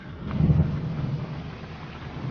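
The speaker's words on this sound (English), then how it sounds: "heaving rain out of the sky" Heavy rain pours down during a storm on an African safari, a dense steady wash of noise with a low rumbling swell early on, with no voices.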